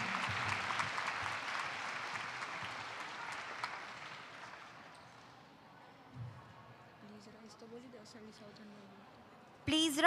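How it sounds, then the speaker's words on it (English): Applause at a school morning prayer assembly for reciters, performers and the music team, a loud burst of many hands clapping that fades out over several seconds, followed by quieter room noise, a few shuffles and a sharp bump at the end. "May we have a huge round of applause for all the reciters, performers, and the music team this morning."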